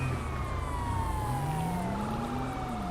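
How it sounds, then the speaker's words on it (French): A police siren in GTA V Online wails steadily with rising and falling pitch, fairly close, over a constant engine rumble and traffic noise, with no talking. "J'entends les sirènes."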